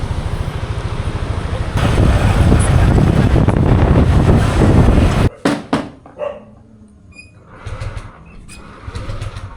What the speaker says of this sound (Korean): 드디어 오토바이 탔다